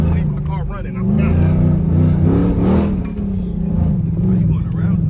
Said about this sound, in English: I wasn't supposed to leave my car running.